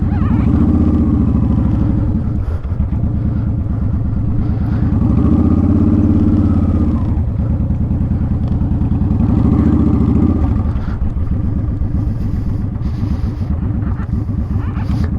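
A motorcycle creeping along at slow speed with the clutch pulled in, a close engine idling with a steady low throb and a few gentle surges in revs throughout.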